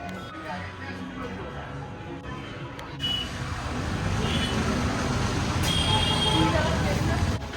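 Road traffic rolls along New Marine Drive in Puri near the beach, a continuous motor hum with occasional horn beeps that grows louder partway through, while people talk over it.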